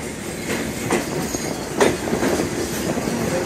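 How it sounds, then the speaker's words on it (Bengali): Simanta Express pulled by locomotive 6603 rolls into Parbatipur Junction at night, a steady rumbling rail noise with rhythmic wheel clacks and occasional sharp squeals through the whole stretch, fairly close and with no talking. "সীমান্ত যত পার্বতীপুর জংশন ইন করলো এবং 1 নম্বর প্ল্যাটফর্মে ইন করলো"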